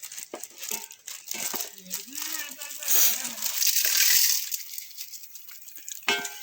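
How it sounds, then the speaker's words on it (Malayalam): Yippee Maggi noodles are snapped and crumpled into a pan with chicken, a series of close crinkling cracks and rustles mixed with a voice talking and a sizzling hiss in between. "ഇനി മാഗി പൊട്ടിച്ച് ഇനി ചട്ടിയിലോട്ട് ഇടുകയാണ്"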